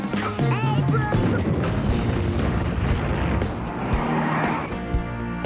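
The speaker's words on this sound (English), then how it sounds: "That sounded like an explosion at the old Simpson place." An explosion sound effect in a radio ad: a dense, loud, sustained roar and rumble fills the whole stretch, mixed with skidding-like and booming layers, with no clear pause.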